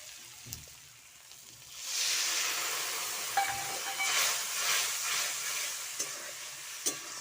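A small splash of water hits a hot pan of frying fish curry and masala, and the sizzle swells into a loud, sustained hiss. A few clinks and scrapes of stirring cut through it.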